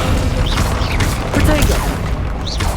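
Depulso and Descendo spells cast during a Hogwarts Legacy battle, a loud, dense clatter of bursts, whooshes and crashes. A voice is heard in the middle of the commotion.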